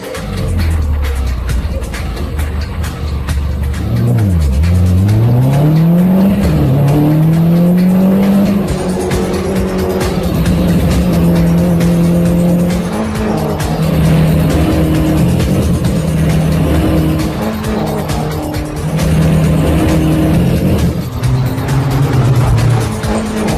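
A Mini Cooper race car on a circuit drives at full volume, its engine note dipping and climbing as it spins out, with tire squeal and skidding, then carries on under sustained loud engine drone and shifting revs.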